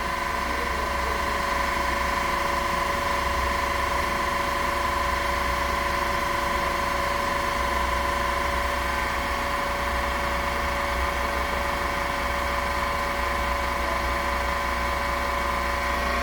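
A transmission fluid exchange machine circulates oil through a 2017-2020 Chevy Camaro SS while the engine idles, giving a steady, unbroken mechanical hum with a pump drone that holds level the whole time.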